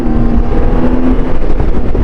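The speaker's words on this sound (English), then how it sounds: "enjoy the music of this inline 6-cylinder engine, at least for now." A BMW K1600 GTL touring motorcycle's inline six-cylinder engine runs at a smooth, even pitch, a loud, close, constant drone without speech.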